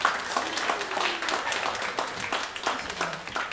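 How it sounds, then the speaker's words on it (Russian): Applause from a concert audience welcoming a performer at a saxophone show, moderately loud and continuous with a few distinct claps and faint voices mixed in. "Прошу аплодисменты, встречайте."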